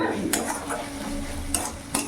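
Spices for a rohu fish curry are stirred in a pan, with a spoon scraping and clinking against the metal over a steady sizzle of frying, close and fairly loud, with a few sharper knocks.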